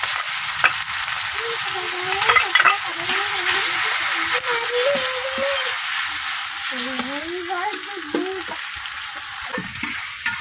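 Ginger and garlic fry in a pan with garam masala, bay leaves, cinnamon and cardamom for a beef curry, a continuous crackling sizzle with stirring scrapes under a voice speaking throughout.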